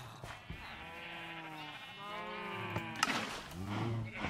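Minecraft cows and sheep calling, several drawn-out lowing and bleating cries overlapping in a steady stretch, moderately loud with no speech.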